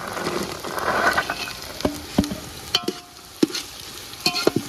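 Mixed vegetables for veg pulao frying in a pan, a broad sizzle at first, then sharp clanks and scrapes of a spoon stirring, close by with no talking.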